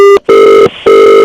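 Telephone ringing loudly and close, two long electronic rings with a short gap between them, a brief cut-off ring at the start, and no talking.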